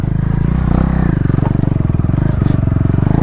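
A modified KTM Duke 390 motorcycle with its exhaust removed chugs loudly and close up while riding, a rapid, rough, pulsing engine note with a rattly edge.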